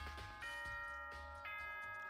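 A video game announcement chime plays as two bright, sustained tonal notes, the second starting about a second after the first, ringing clearly over a low background hum.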